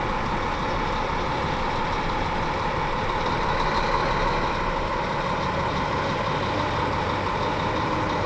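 Steady, loud diesel roar of a Hyundai 985 wheel loader working hard as it drives its bucket into a pile during a competition event, a constant heavy engine drone with no pauses.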